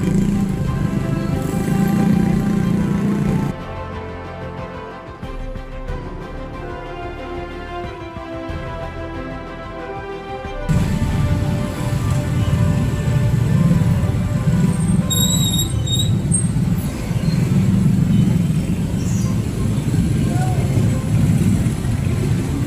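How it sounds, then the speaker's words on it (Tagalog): Heavy road traffic in Dumaguete, a steady drone of motorcycle and car engines close by that drops briefly, then swells back, with a person talking over it. "Sobrang traffic"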